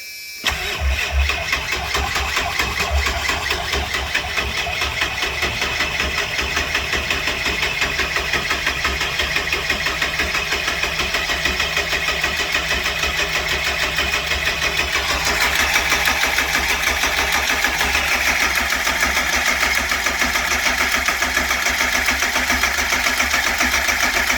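A 7.3L Powerstroke diesel ambulance engine cranks and fires, then settles into a loud, steady, close-up idle with a continuous rattling clatter that carries on alone.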